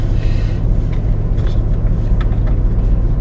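A truck drives along the Dempster Highway in the Yukon toward Eagle Plains, its engine and tyres making a steady, loud, close rumble throughout with no talk.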